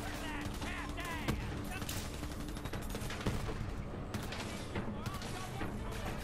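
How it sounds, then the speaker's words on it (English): Gunfire in Borderlands 3, scattered bursts and single shots cracking amid a busy mix of game effects and background noise, with a voice speaking intermittently over it. "Who is shooting at me?"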